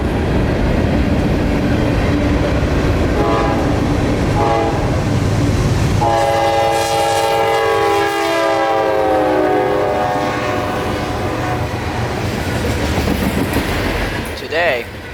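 A freight train carrying rock loads rumbles past a rail junction, wheels clattering steadily beneath a long blast of the horn that rises mid-passage, with a voice talking over it throughout.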